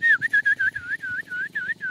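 A person whistles a bright, wavering melody in a string of short, closely spaced phrases, sustained and fairly loud with no talking over it.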